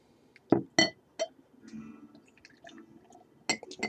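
AleSmith IPA poured into a glass: sharp clinks of bottle against glass, then a low gurgling pour with liquid splashing, and a final cluster of clinks at the end.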